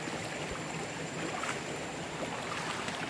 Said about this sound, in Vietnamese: Bây giờ tôi sẽ cố gắng vượt qua cái đoạn suối cuối cùng này.